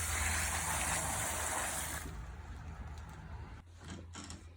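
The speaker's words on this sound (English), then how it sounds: "we want to take our bucket of water and just empty it outside" A bucket of aquarium water is poured out outdoors, a loud gushing splash for about two seconds, then quieter trickling and faint outdoor noise.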